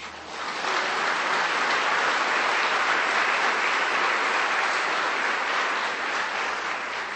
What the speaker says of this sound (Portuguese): Dê um aplauso a esse Deus.